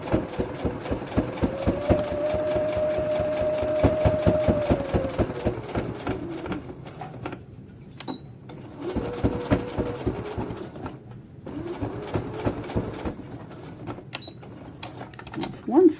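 A sewing machine finishes a seam on a fabric 3D face mask, whirring in several steady runs with brief pauses between them, under intermittent quiet talking.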